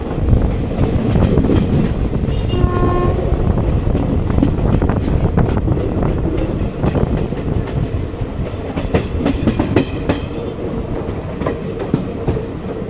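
Steady, loud rumble of the 06576 Summer Special train rolling toward Krishnarajapuram station, with continuous wheel clatter and wind buffeting heard from aboard an AC 3-tier coach, a faint brief squeal partway through.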